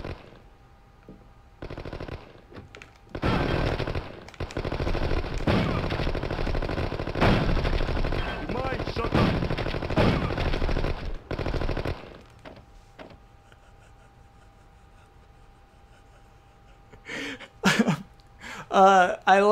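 Tommy gun firing at a wall in the video game Chicago Enforcer: long rapid bursts of automatic fire, loud and sustained for several seconds with short gaps, followed by quiet and then talking near the end.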